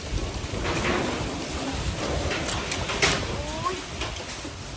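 A storm blows through with wind and rain, a dense steady rush holding at a constant level. Brief sharp gusts or spatters and a faint chirp rise above it.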